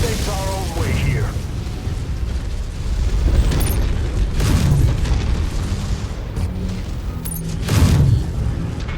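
In the MechWarrior video game, a mech is destroyed amid repeated heavy booming blasts and mechanical clanks over a rumbling backdrop, with a synthetic game voice speaking at moments.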